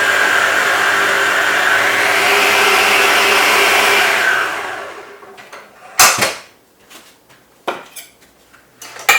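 An electric mixer whirs steadily for about five seconds while creaming butter and caster sugar for classic shortbread, then shuts off, followed by sharp clinks and scrapes against the bowl.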